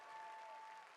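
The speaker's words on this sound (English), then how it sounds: "Please give a warm round of applause." Audience applause at Tokyo Comic Con 2022 for departing celebrity guests on stage. A brief, faint, even patter of crowd clapping is heard with a thin steady tone above it.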